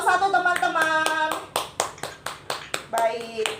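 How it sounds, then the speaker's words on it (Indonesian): Classroom applause for Bian and group 1, a dozen or so sharp rhythmic claps in a steady beat, with a voice talking over the start. "Tepuk tangan untuk Bian dan kelompok 1 teman-teman."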